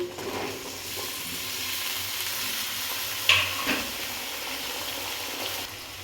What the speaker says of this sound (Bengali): কেটে রাখা সব সবজিগুলো দিয়ে দিলাম এবার উলট পালট করে একটু নাড়াচাড়া করে নেব